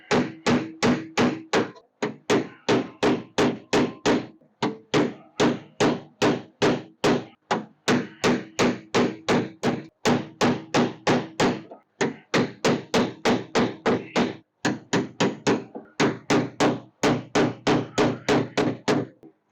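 A hammer drives a chisel against a door lock part on a 1981 Corvette in rapid bursts of sharp metallic blows, each run of strikes separated by brief pauses, close and loud.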